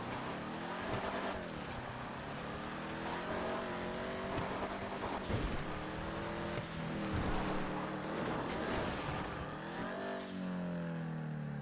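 Imponte Ruiner muscle car accelerating off-road in GTA V: a steady, close engine roar whose pitch climbs and falls with repeated revs across the whole stretch, ending in a rising surge.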